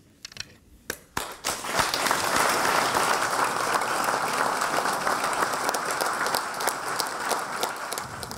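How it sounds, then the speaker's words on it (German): Applause for graduating police cadets at a ceremony in Switzerland, starting with a few scattered claps, then swelling into sustained, fairly distant crowd clapping that holds steady to the end. "Genauso wie einen grossen Applaus."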